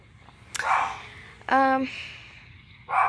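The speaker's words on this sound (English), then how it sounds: "my dogs are barking at the moment" Dogs bark in a room, a few sharp, loud barks spaced apart with one drawn-out yelping bark, mixed with faint background noise.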